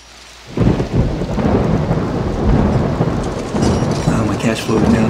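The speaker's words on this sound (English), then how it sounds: "With all the rain going on there," Heavy rain pours steadily with rumbling thunder underneath in RollerCoaster Tycoon 3, a dense loud wash of downpour starting abruptly after a short quiet moment.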